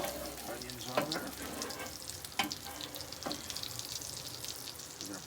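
Onions sizzling on a hot griddle for smash burgers, a continuous close frying hiss broken by a few sharp spatula scrapes and knocks, with a little background voice.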